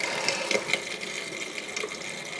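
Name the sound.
antifreeze water running from motorhome sink faucet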